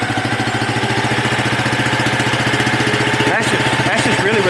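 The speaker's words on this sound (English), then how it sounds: "See how the motor's jumping around there?" Small engine of a mini excavator running just after choking, with a steady, fast throbbing chug that wavers and surges, loud and close throughout.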